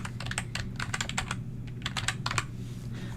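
Rapid, uneven keystrokes on a computer keyboard, a burst of close clicks and taps with short pauses, clear and alone over a low steady hum.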